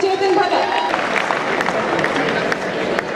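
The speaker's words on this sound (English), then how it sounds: "a great round of applause for Mr. Chetan Bhagat" Applause for author Chetan Bhagat at a knowledge park talk, as an auditorium audience claps steadily and densely with a murmur of crowd noise beneath, following a brief voice at the start.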